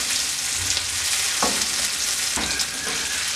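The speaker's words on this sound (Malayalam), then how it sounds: "അപ്പോൾ ഇതൊന്ന് ഫ്രൈ ആയി വരട്ടെ." Prawns frying in hot oil make a loud, constant sizzle up close, with a couple of brief scraping stirs cutting through the steady hiss.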